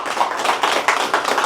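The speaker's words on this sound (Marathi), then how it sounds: "भाऊंसाठी आता जोरदार टाळ्या वाजव" A small audience at a training session in Malshiras claps together. The claps are brisk, close and fairly loud, and they fall in a quick, slightly uneven rhythm for about a second and a half.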